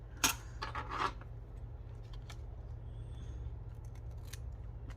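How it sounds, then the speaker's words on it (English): Scissors trim a paper Christmas gift tag with two quick, close snips near the start, followed by a quiet room with a low hum. "might need some trimming off here"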